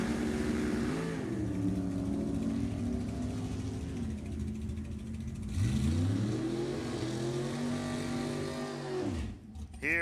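Drag racing cars, a Chevy Vette-bodied car and a Willys, accelerating down the strip at a national open event, engines roaring and revving with rising pitch sweeps, a second car surging past near the end, an announcer talking over it.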